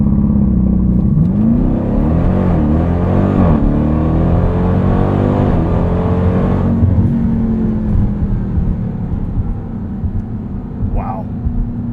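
A 2023 Dodge Durango SRT Hellcat launches hard from inside the cabin, its supercharged engine roaring loud and climbing through gear shifts, then easing off as the run winds down, with a voice briefly over it.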